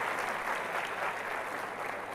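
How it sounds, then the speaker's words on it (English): Sustained audience applause at a realme X2 Pro product launch, a dense even wash of many hands clapping steadily for the full stretch, moderately loud and close. "I want to have a big round of applause to the people who are sitting over here"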